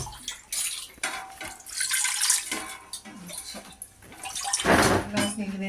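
A glass of water is poured into a large pressure cooker with its whistle removed, giving several splashing, gurgling bursts of varying strength at close range, with faint voices in the background.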